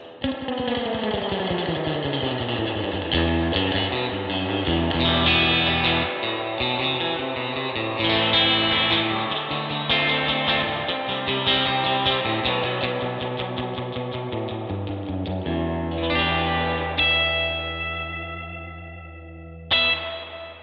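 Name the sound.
electric guitar through tube amp reverb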